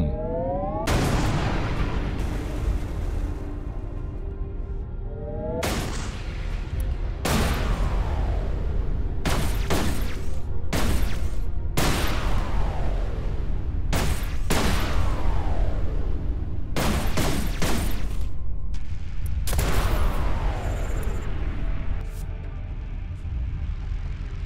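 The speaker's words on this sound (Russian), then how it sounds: "Быстрая картечная пушка." Rapid-fire shotgun cannon in the space shooter Everspace 2, a series of loud booming blasts, some spaced apart and some in quick clusters, each with a long decaying ring, heard alone without talk.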